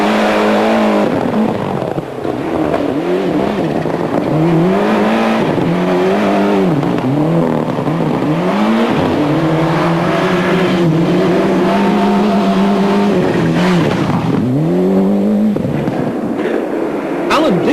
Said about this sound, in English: Neil Duggan was treating his engine delicately after an overnight rebuild.